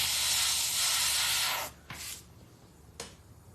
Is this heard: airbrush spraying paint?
yes